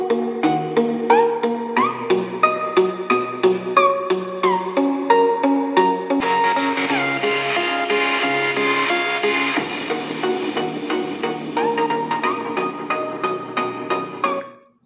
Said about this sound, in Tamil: இப்போ நான் பாட்டை ஆன் பண்ணிக்கிறேன்.